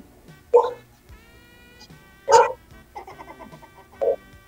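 A few sharp dog barks spaced apart, with light chatter and background noise between them.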